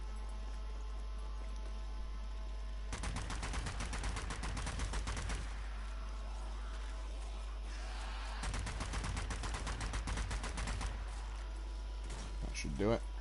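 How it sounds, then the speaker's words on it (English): Automatic weapon fire while shooting Nazis in a video game, two long rapid bursts of steady shots separated by a pause, with someone talking over the action. "So, I'm going to put another 40 rounds into it."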